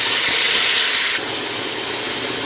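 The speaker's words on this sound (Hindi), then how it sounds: "जी, तो हमारे प्याज जो हैं वो तकरीबन ब्राउन हो चुके हैं। हम इसमें थोड़ा सा पानी लगाएंगे।" Water poured into a pan of browned frying onions for beef biryani sets off a loud, steady steam hiss and sizzle, with a sudden drop in intensity about halfway through.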